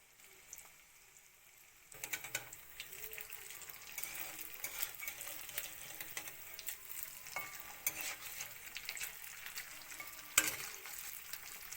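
Fish roe fritters drop into hot oil after a quiet start, and a busy crackling sizzle follows, steady and close, with one sharp clink near the end.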